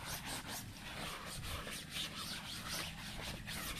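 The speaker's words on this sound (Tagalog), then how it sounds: "Kuskusin! Kuskusin!" Steady, close scrubbing of a surface by hand, a continuous coarse rubbing that keeps up evenly for a few seconds with no talk over it.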